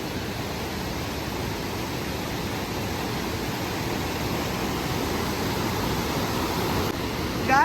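A hidden stream near Marayoor runs full and fast after rain, a steady broadband rush of water that stays constant and fairly close throughout, with a brief sharper splash at the very end.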